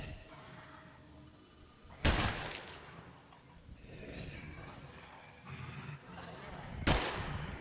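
Two sharp, loud AK rifle shots in State of Decay 2, spaced several seconds apart, each a sudden crack with a short tail, over quieter game ambience and no talk.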